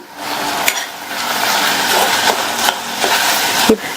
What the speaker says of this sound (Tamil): நல்லா வதக்கி விட்டுருங்க. நம்ம சேர்த்துருக்கிற இந்த தக்காளி நல்லா வதங்கி மசிஞ்சு வரட்டும்.